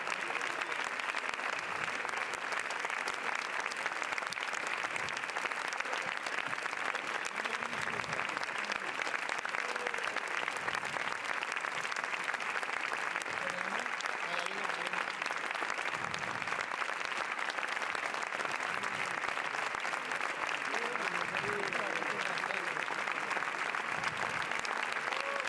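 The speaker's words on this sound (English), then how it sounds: "Lots of applause there for the entire cast from Pacifiction on this night" Sustained applause from a large crowd at the Cannes 2022 red carpet for the Pacifiction cast, a dense even roar of clapping that holds steady throughout with faint voices mixed in.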